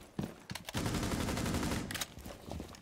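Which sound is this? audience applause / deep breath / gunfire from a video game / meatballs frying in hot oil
gunfire from a video game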